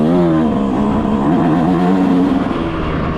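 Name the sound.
stock 2026 Yamaha YZ125 dirt bike riding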